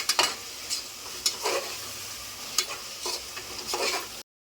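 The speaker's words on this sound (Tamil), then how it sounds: "இப்போ இஞ்சி பூண்டு பேஸ்ட் ஆட் பண்ண பிறகு கொஞ்சம் நேரம் நல்லா கிண்டி விடுங்க" Ginger garlic paste frying in a pan for chicken 65 biryani, stirred with a utensil: soft sizzling bed with intermittent scraping strokes, quiet and close, no talk.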